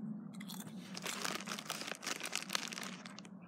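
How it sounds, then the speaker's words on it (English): Crisps crunched and chewed close up during a lunch out in the woods, with continuous, busy crunching and crackling of the chips between the teeth. "I'll eat your crisps though, they're open."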